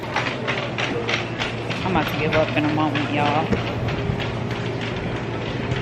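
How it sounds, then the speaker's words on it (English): Shopping carts rattle and clatter loudly as they roll, a continuous rough clickety racket from shaky wheels, with a person talking over the noise. "There's no freaking way that these carts sound like this."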